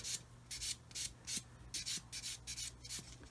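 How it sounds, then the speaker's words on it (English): A 1500-grit sanding sponge rubs over a 1/48 scale R-11 fuel tanker model in short, rhythmic back-and-forth strokes, about nine soft scratchy passes, close and alone. "I'm going to use this 1500 sanding sponge. Just go around like that."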